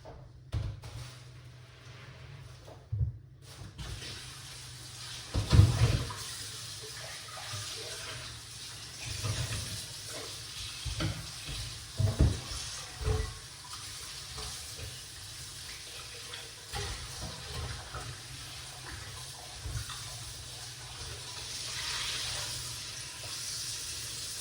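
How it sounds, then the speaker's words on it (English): Tap water runs steadily while cucumbers and other cooking ingredients are rinsed in a kitchen sink, with a few louder splashes and clatters along the way and no talking. "Let's wash off these ingredients now."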